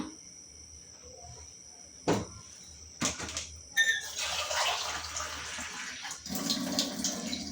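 Water is poured from a tumbler onto soaking seeraga samba rice in a home kitchen: a few sharp knocks first, then a steady close splashing pour that fades and briefly resumes.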